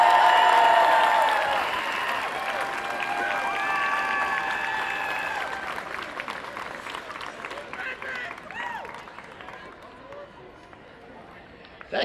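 Broad crowd applause for competing marching bands at a championship awards ceremony, loud at first and then easing to a steady patter, with an announcer's voice over the clapping.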